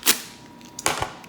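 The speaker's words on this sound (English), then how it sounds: "take our good old little knife here, and we're gonna cut it open." A small knife slicing open a pack for a popsicle-stick craft: a sharp snap at the start, then a quiet pause and a cluster of crisp cutting clicks and pops close by.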